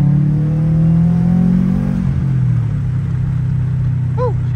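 A 2012 Subaru WRX engine drops a gear and pulls under boost, a loud, close rumble whose pitch rises and then settles, with a faint chirp near the end.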